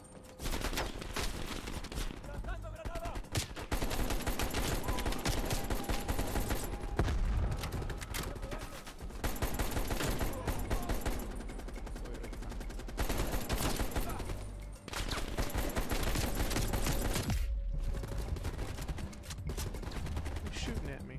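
Call of Duty: Cold War campaign gunfire rattles in dense, loud bursts of rifle and machine-gun fire, nearly continuous with brief pauses, and faint voices mixed in among the shots.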